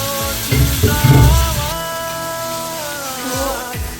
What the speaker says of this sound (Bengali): একই প্রসেসে আরো দুটো যে মাছ আছে সেটাকে ফ্রাই করে নেব